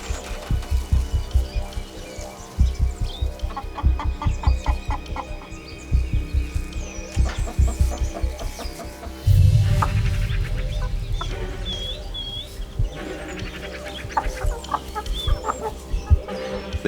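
Hens cluck in a sunlit chicken coop in the Australian countryside, with repeated close, rhythmic clucks running throughout and a louder, denser burst of fowl noise partway through.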